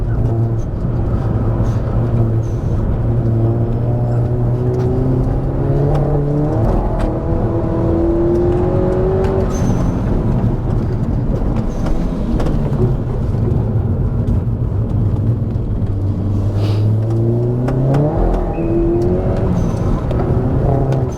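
A VW Caddy fitted with a 360 hp Golf GTI engine accelerates hard through the gears, the loud engine note climbing in pitch, dropping at each shift and rising again, heard from inside with heavy road and wind roar.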